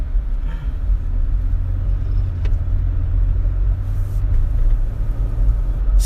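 A mini truck driving and making a turn, heard as a steady low engine rumble with road noise from inside the cab, constant and moderately loud without talk.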